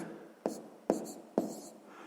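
A pen writes out a sixth-grade math solution by hand on paper, with three distinct bursts of scratching strokes spaced about half a second apart, close and fairly quiet in a still room.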